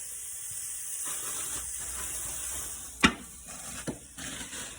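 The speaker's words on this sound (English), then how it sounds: "We've got them in the barbecue, cooking up." Italian sausages sizzle on a barbecue with a soft, continuous hiss, broken by two sharp clicks or knocks a little past the midpoint; no voices.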